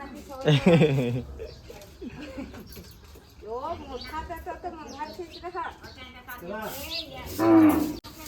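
Desi cow at a village home mooing loudly and nearby, once near the start and again near the end, with people talking and faint chicken clucks around.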